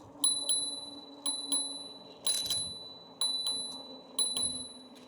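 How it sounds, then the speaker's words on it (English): A push bell on an RCB RK6 folding electric bike dings five times in a loose, regular rhythm, each bright metallic ring close by and fading quickly, with quiet outdoor background between. "I think that's not a bad bell at all."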